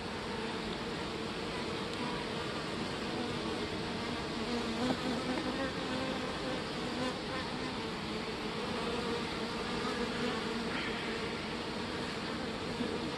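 A swarm of about 5000 honey bees fills the air with a dense, continuous buzzing drone, steady and moderately loud throughout with no talking.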